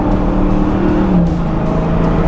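Loud, steady exhaust drone from a 2023 Dodge Challenger SRT Hellcat Jailbreak cruising along at light throttle, a deep continuous rumble with no break.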